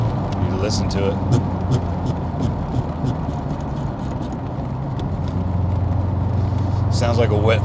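A steady low engine rumble from a twin-turbo Callaway C4 Corvette drones throughout from inside the moving car, with a slight rattling texture and occasional clicks.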